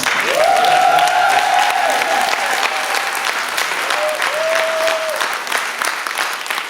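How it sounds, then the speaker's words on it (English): A crowd at a Kwanzaa celebration claps loudly and steadily throughout, with a few drawn-out tonal calls or whistles rising above the dense hand clapping early on. "That was a good hand clap, y'all. Let's do it again, though."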